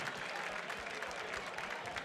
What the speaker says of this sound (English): Can we give a big round of applause to all of our bidders and all of our donors?